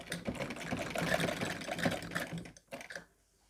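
Sewing machine running a stitch line through fabric on the back neck of a kameez, a rapid fine clatter that rises and falls in bursts, fairly close, before stopping to quiet.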